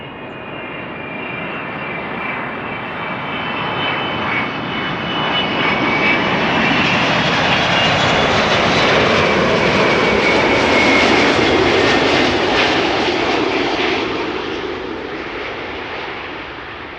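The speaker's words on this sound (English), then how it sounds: "Next up, Delta Airlines flight 136 arrived from Detroit, Michigan. A330-300" A Delta Airlines Airbus A330-300 airliner arriving at Amsterdam Schiphol roars past loudly, its jet whine swelling as it nears, holding at a peak, then easing away, with no voices.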